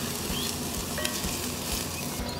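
Garlic with pork and beans cooks in a pan while being stirred, producing a low, steady sizzle with faint scraping, quiet and brief.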